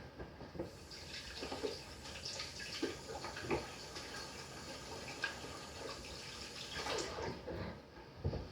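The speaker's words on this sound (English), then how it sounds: "So I'm just going to wash my hands." Hands being washed under a running kitchen tap during pork belly preparation, a steady broadband rush of water with small splashes and clatters, fairly close and continuous throughout.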